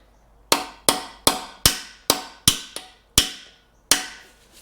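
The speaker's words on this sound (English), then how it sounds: "watch as I tap on the bolt" Nine sharp metallic hammer taps on a bolt in a 2002-2006 Toyota Camry alternator bracket during an engine rebuild, evenly spaced and close, each ringing briefly, with no talking.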